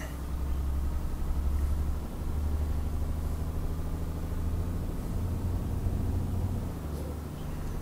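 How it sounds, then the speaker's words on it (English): In Euro Truck Simulator 2, a truck engine runs high in the revs with a steady, loud low-pitched drone and a sustained hum that holds throughout. "I'm actually going a little too high on the revs there, I think"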